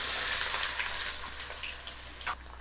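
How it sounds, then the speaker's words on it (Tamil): Chopped large onions sizzle steadily in hot oil for a duck curry gravy: a continuous close frying hiss with faint crackles and one brief louder burst near the end, with no talking. "நல்லா எண்ணெயிலே வதக்கணும்பா."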